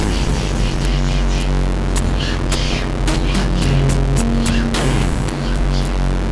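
Harsh, distorted noise from The Great Destroyer Eurorack synthesizer module grinding continuously, with buzzing low drones, shifting pitched tones and crackling bursts, loud and dense throughout.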